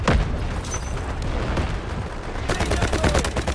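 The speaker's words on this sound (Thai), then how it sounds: "ทางนู้นทางนู้นยิงกันยับเลยว่ะ" Heavy gunfire in the shooter game Delta Force: loud overlapping bursts of rifle and automatic fire with booming impacts, dense and continuous, then sharper rapid cracks in the final second.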